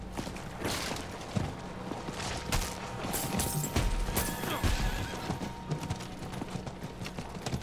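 A horse whinnies in Diablo IV over steady clip-clopping hooves and clicking, ratcheting game sounds; a lively, busy mix with no speech.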